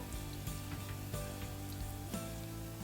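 Garlic and onion sizzle steadily in a pan for a shrimp and potato curry, a close, continuous hiss broken by a few soft knocks from stirring.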